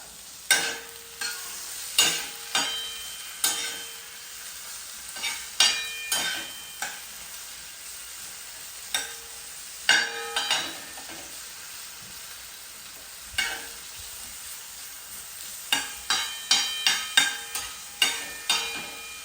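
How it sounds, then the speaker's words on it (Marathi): Onion and chili fry in a pan as a utensil stirs them in repeated scraping strokes, some quick bursts and some pauses, over a soft steady sizzle close by. "कांदा टाकला डबल मिरची टाकली आता ह्याला मस्तपैकी हलवून घ्यायचा"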